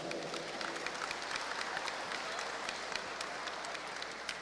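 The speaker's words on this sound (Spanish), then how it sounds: "Un fuerte aplauso." Audience applause at the Pan-Amazonian Social Forum, a steady wash of many hands clapping at moderate level with a few sharper individual claps standing out.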